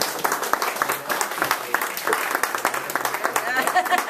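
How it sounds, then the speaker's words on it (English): An audience breaks into applause at a talk about the Lone Ranger, brisk close clapping from a modest crowd with voices mixed in. "You all owe Fred and Marcia a round of applause."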